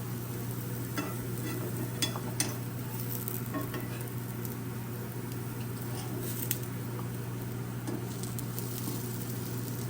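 Sprouts tikki roasts on a pan with a soft, continuous sizzle and light crackle, close and even, with a low steady hum beneath it.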